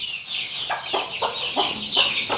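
A hen and her chicks cluck in a farm setting, giving a string of about five short, close clucks in an even rhythm over faint background noise.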